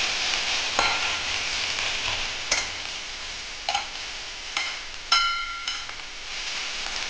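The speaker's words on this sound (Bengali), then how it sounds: "আর এই 1 চামচ আদা বাটা দিচ্ছি, দিয়ে আবার ভালো করে ভেজে নেব।" A spoonful of ginger paste fries in a pan with a steady, soft sizzle, punctuated by sharp clicks and taps of a spatula stirring against the metal at irregular intervals.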